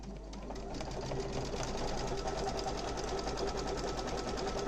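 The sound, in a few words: embroidery sewing machine stitching satin stitch around patch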